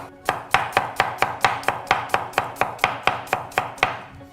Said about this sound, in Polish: posiekam, posiekam koperek oraz rzodkiewkę